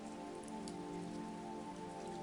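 Steady rain patters on black umbrellas along a narrow path beside parked cars, a dense, even hiss of drops that holds close and constant throughout, with no voices.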